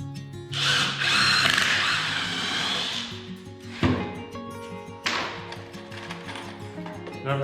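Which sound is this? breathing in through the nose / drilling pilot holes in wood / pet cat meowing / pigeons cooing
drilling pilot holes in wood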